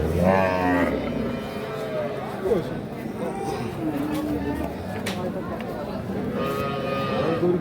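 A Holstein Friesian cow moos several times at a cattle market, low drawn-out calls near by, with people talking in the background between the calls.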